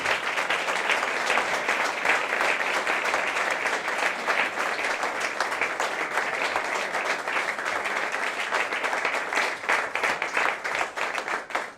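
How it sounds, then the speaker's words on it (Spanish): Sustained, loud applause from an audience at a Club de los Viernes award conference in honor of its president, steady dense clapping throughout with no speech over it. "para quien pido un fuerte aplauso, por favor"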